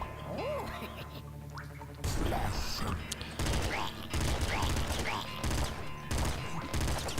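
Gunfire in the top-down shooter Nuclear Throne: a dense run of rapid shots and mechanical clicks over chiptune-style game music, getting louder and busier after the first two seconds.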